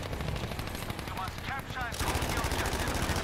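Rapid machine gun fire in Battlefield 5, dense rattling bursts that pause briefly, then resume louder and heavier, with a voice talking faintly underneath.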